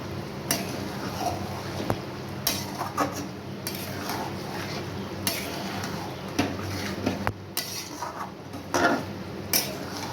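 Mutton being stirred in a cooking pot with a utensil, giving scattered metallic scrapes and clinks against the pot over a steady low background, with no talking.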